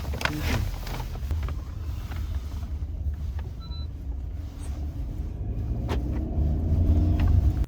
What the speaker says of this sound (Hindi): ये रही अपनी मर्सिडीज।